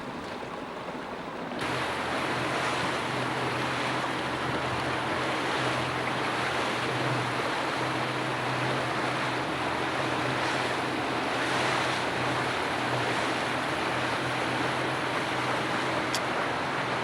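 A small runabout boat travelling on the Ohio River, with a steady loud wash of water and wind rushing past close by and a low engine drone underneath throughout.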